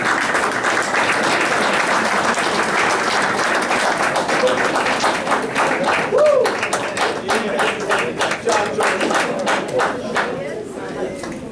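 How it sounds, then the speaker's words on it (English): Audience applause fills a board of education meeting, dense sustained clapping from a crowd that runs throughout and thins slightly toward the end, with faint chatter mixed in. "one more round of applause for our"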